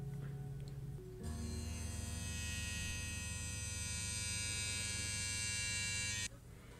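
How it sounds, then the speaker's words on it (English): An electric razor switches on and buzzes at a steady, close drone for several seconds, then cuts off abruptly, with a low hum underneath. "Gonna shave it."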